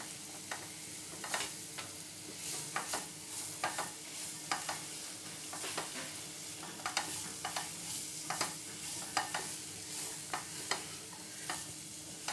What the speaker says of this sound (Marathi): तर नुसतं त्या मसाल्यामध्ये परतून घ्यायचे.